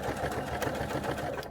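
A sewing machine runs close and steady, its rapid rhythmic needle thumps stitching straight over a bulky seam on a peg bag.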